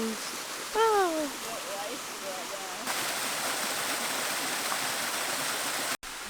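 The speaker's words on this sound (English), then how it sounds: "So here we've found Tourist Falls." Tourist Falls, a waterfall in a jungle on Siquijor in the Philippines, roars as a steady, continuous rush of water that grows fuller partway through, after a voice speaks briefly at the start.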